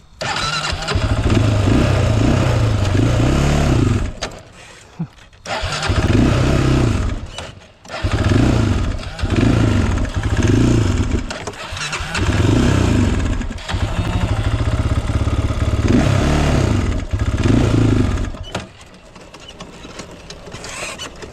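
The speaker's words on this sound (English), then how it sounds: "as soon as you dip it below the half throttle, breaks up, backfires, shuts off, randomly surges" A quad ATV engine runs rough, revving loudly in repeated bursts that break up, cut out abruptly and surge back, with brief backfiring pops between the uneven roars, close up throughout.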